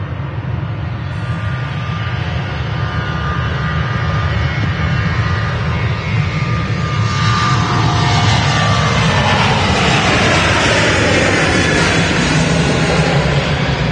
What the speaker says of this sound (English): That is a Ryanair 737 going to Barcelona